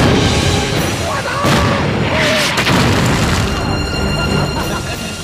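Artillery shelling in a war drama action scene, a series of heavy booming explosions and bursts rolling one after another, loud and continuous, with shouted voices mixed in.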